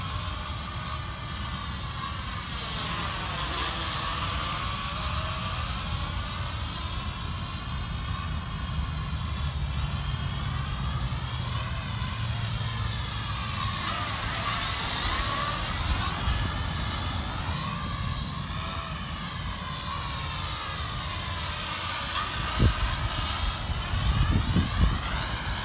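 A YH-19HW quadcopter drone flying in headless mode, its steady high-pitched propeller whine holding for the whole stretch and rising and falling slightly in pitch as it moves closer and farther, with no talk.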